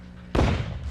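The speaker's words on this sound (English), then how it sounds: "Those were gunshots." A single sharp gunshot-like bang in a TV drama scene, a sudden loud crack with a short boomy tail that follows a quiet room tone, close and alone without speech.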